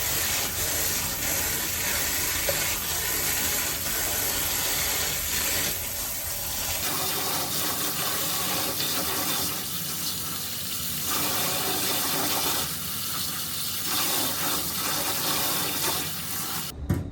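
Dal lentils being washed by hand in a bowl of water, a continuous soft sloshing and swirling with a faint running-water hiss underneath, fairly quiet and steady with no talk.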